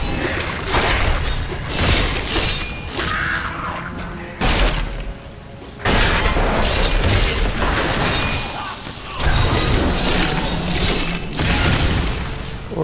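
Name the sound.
necromancer corpse explosion in video game Diablo 3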